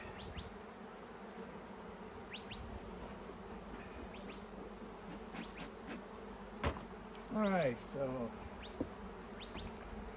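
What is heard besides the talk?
honeybees buzzing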